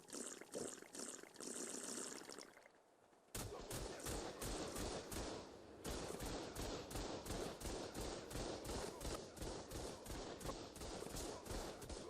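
Heavy turrets in ARK: Survival Evolved fire in rapid, continuous bursts, a dense rattle of repeated gunshots with a brief lull before the barrage resumes at full intensity.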